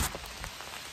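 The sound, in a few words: rain falling while walking outside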